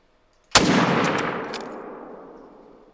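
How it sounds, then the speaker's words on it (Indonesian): A single loud rifle shot fired at a bear in the hunting game TheHunter: Call of the Wild, a sharp close blast followed by a long rolling echo that slowly fades over several seconds. "kita tembak ini guys ya"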